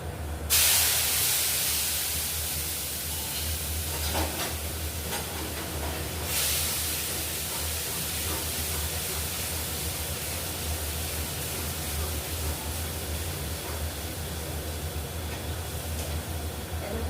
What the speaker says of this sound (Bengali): এখন আমি মশলাটা দিয়ে কষিয়ে নিচ্ছি